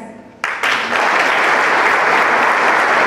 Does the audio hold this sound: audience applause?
yes